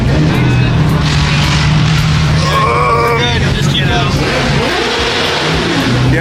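Motorcycle engines revving at a car meet, loud bursts of throttle rising and falling over steady engine rumble and background talk.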